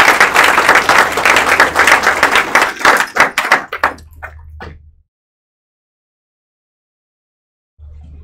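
Audience claps for students at a career and technical education signing day ceremony, a dense burst of applause that thins into scattered claps and stops, with a low hum returning near the end.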